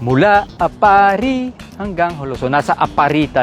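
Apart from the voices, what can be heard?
No everyday noise stands out behind the speech.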